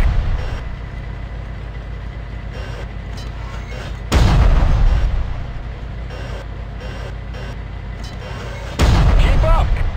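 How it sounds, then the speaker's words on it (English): Tank cannon shots in the combat game Armada Tanks: two loud, booming blasts several seconds apart, each decaying into rumble, over a steady low engine drone with radio-style voices talking. "Commence firing."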